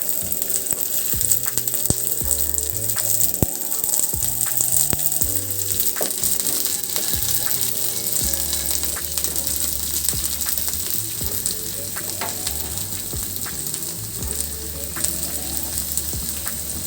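Chopped large onion sizzling in a spoonful of hot oil in a pan, a steady, even frying hiss with occasional clinks and scrapes of stirring.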